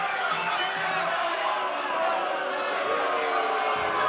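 Crowd at a Beatdown XII fight night, Batu Demiral vs Augusto Bernadi, reacting disapprovingly after an intentional kick, a sustained loud roar of booing and jeering that fills the arena continuously.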